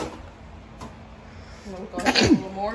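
A single sharp sneeze bursts out near the end, following quiet speech in the background, indoors during a crawfish boil.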